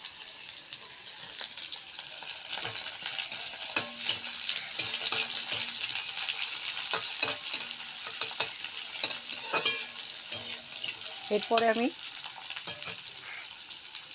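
Onions sizzling and frying in a pan while being stirred for a spicy small-fish curry, a steady crackling hiss with scraping stirs and brief clinks, and someone speaks briefly near the end.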